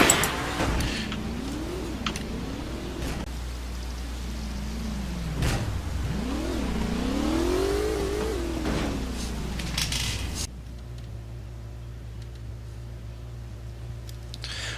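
Car in the Half-Life game driving off, engine revving up and down in several rising and falling sweeps at moderate loudness, then cutting off to a low idle hum near the end.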